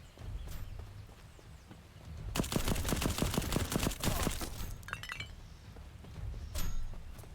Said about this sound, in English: I'll use the SMG.